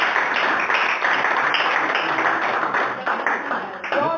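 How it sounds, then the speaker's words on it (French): Church congregation applauding for a sister, a steady, dense wash of clapping from a crowd that carries evenly through the whole stretch without pause. "Applaudissez pour notre sœur."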